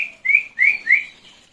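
Three short, bright rising whistles from a person flying pigeons at a pigeon tournament, in quick succession, clear and fairly close, followed by a faint fading tail; no talking.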